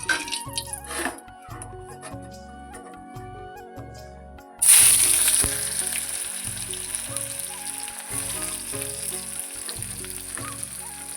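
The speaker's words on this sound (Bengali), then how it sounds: "শাক ভাজাটা হয়ে গেছে" Leafy greens (shak) frying in a home kitchen pan, a steady close sizzle that swells suddenly loud partway through and stays strong, with faint scraping and no talking.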